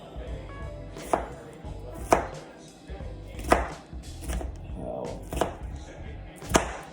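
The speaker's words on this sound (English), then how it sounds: "Chopping everything up." A knife chops food on a board in sharp, separate strikes, about six of them spaced roughly a second apart, close by, with faint background noise.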